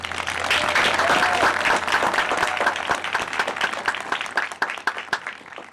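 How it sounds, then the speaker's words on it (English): Sustained audience applause for a graduating class at an in-person college commencement celebration, dense and steady at first, then thinning into scattered individual claps toward the end. "Let's please give this class a round of applause."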